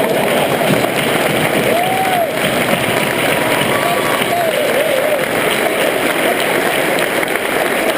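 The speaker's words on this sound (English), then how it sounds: "y'all need to stand up and give them a round of applause." Audience at a military retirement ceremony applauding, a dense, loud roar of clapping and crowd noise that holds steady throughout, with faint cheers rising over it.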